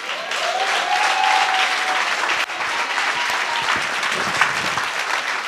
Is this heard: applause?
yes